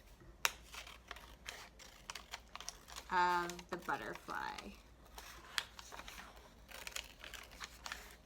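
Intermittent crisp snips of scissors cutting paper, close by, with a person talking over most of them.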